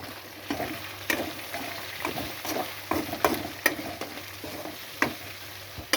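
Chicken with carrots and cabbage sautéing in a small pan, a moderate sizzle broken by repeated stirring scrapes and spatula knocks at an uneven rhythm, no talking.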